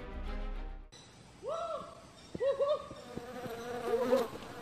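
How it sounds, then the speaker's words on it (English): Honeybees buzz around with droning hums that swoop closer and fade, loud and near, with a sharp knock or two in between, in a Malaysian rainforest. "Bees! We got lots of honeybees here!"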